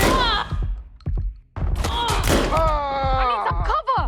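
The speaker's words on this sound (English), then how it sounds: "I'm getting shot at! Taking fire!" Gunshots and heavy thuds crack through a street firefight in Watch Dogs: Legion, loud and close, broken up by shouting voices and short pauses.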